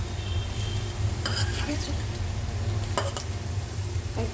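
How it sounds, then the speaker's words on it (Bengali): Sago pakoras fry in hot oil, a steady sizzle running throughout, with a few sharp clinks of a utensil against the pan near the middle and end. "এই যে আজকে আমি সাবুর পকোড়া বানিয়েছি, এইগুলো এবার ভাজা হচ্ছে।"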